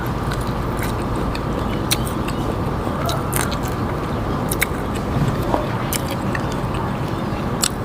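Someone eats stir-fried shrimp with shrimp paste close up, with repeated crisp bites and wet chewing crunches popping irregularly over a steady background hum.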